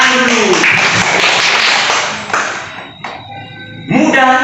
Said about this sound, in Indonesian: Bagus, tepuk tangan buat Anu dulu.